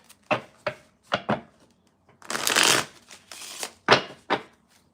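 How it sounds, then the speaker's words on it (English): Tarot cards being shuffled up close: several crisp riffling bursts and taps, then a longer smooth riffle, followed by a few more sharp card snaps, with no talking. "Ooh, that was a nice shuffle."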